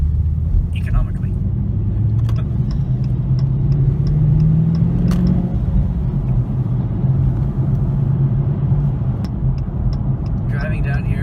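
Steady road noise and low engine drone from a car driving along a road, with a voice talking over it throughout.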